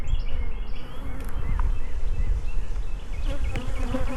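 Honey bees buzz loudly around an open hive during a spring hive split, a dense, continuous close hum with individual bees droning past and faint clicks of frames being handled.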